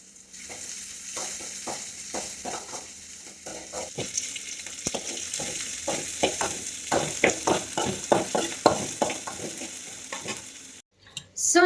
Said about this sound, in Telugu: వేసుకొని ఇవి కొద్దిగా మనకి ఫ్రై అయ్యేటట్లు మనం కొద్దిగా ఫ్రై చేసుకోవాల్సి ఉంటుంది